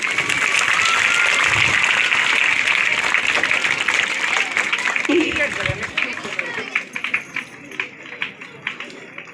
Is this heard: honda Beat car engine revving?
no